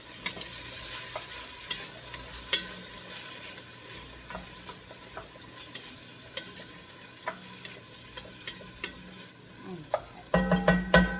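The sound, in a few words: garlic being stirred and sizzling in a pan for rice pilaf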